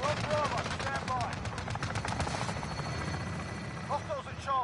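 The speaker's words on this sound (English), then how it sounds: "Enemy chopper gunner on approach." An enemy helicopter gunner approaches in a console shooter. Rotor chop and bursts of rapid machine-gun fire fill the scene, dense and loud, with fainter radio-style voices underneath.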